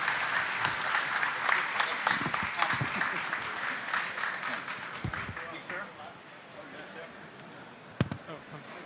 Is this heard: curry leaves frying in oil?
no